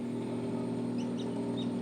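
Chickens cluck close by around a black brood hen whose eggs are starting to hatch on a gamefowl farm, soft fowl calls over a steady low hum throughout.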